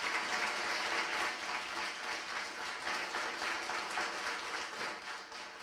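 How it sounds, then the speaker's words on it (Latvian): An audience at the Gada brīvprātīgais 2025 volunteer awards ceremony applauds Agnese Smiļģe; dense, even clapping holds steady throughout, moderately distant with no one speaking. "Dāmas un kungi, vēlreiz aplausi Agnese Smiļģe."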